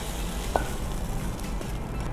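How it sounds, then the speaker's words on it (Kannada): Okra frying in oil in a hot pan for bendekai pulimunchi, a steady close sizzle running throughout with one brief clink of a utensil partway through. "ಮೊದಲೇ ಎಣ್ಣೆಯಲ್ಲಿ ಫ್ರೈ ಮಾಡಿ"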